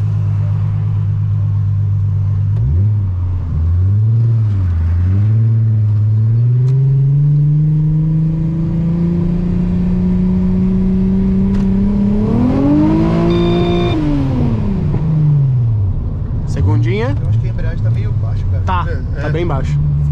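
A VW Golf six-cylinder engine rumbles at idle, then is revved hard at full throttle, its pitch climbing and swelling, then falling back. The sound is loud and close throughout, with brief revs near the end.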